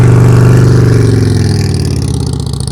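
A motorcycle engine shaking and running close and loud at low speed during slow riding practice, a dense steady throb with a slight fade toward the end.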